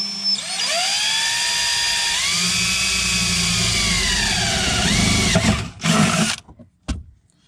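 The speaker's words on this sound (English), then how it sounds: "we're just going to drill straight through into the pan" Electric drill boring through the thin metal of a Volkswagen MK4 Jetta TDI's pan during a trailer hitch install: a loud, sustained whine rising in pitch for about five seconds, then stopping with a few clunks.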